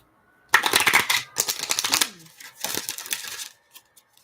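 Oracle cards riffled and shuffled close by in several quick bursts of crisp fluttering papery clatter, with a few soft taps at the end.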